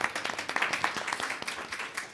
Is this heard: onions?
no